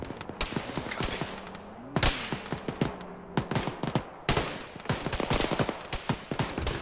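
Rapid machine gun bursts and scattered rifle shots echo through a military shooter game, Arma with the ShackTac group, sharp repeated cracks in several long volleys, fairly close, without talk.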